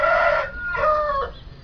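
A Shamo fighting rooster crows close and loud in a short, hoarse call of about one and a half seconds, broken into a few strained segments that trail off.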